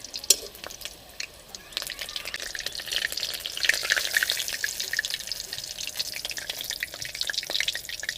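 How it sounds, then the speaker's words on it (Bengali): Rice chops fry in a little hot oil, a soft, crackly sizzle with scattered pops that swells after a quieter start, heard close without any voices. "এইরকম হালকা তেলে ভালো করে ভেজে নেব, না হলে ভিতরে কাঁচা থেকে যাবে।"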